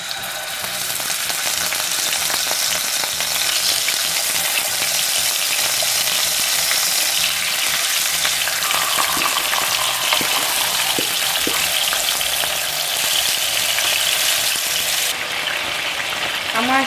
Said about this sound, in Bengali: সো আমি ফার্স্টে তেলটা দিয়েই একটু ভাজবো